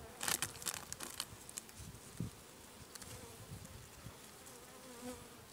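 Honeybees buzzing around an open hive at an apiary, a steady insect drone with a few louder passes close by, along with faint crinkling and handling noises, with no voices.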